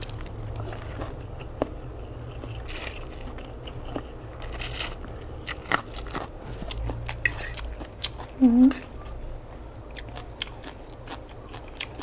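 Close crunchy bites and chewing come from someone eating crispy fried chilies with a rice noodle salad, with brief crackles scattered through otherwise quiet mouth sounds.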